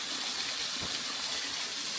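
Water rushes and gushes steadily from a stream reached by a forest trek near Rio de Janeiro, a continuous broad hiss of flowing water close by with no voices.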